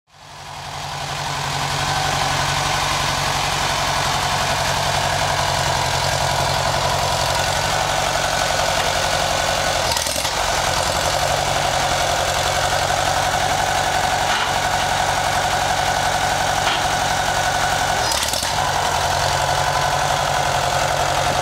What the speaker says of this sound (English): I'm gonna go play with the tractor right now.